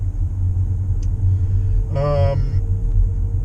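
An Audi e-tron 55 electric car being driven gives a steady low road and cabin rumble, with a brief whining chirp partway through and no voices.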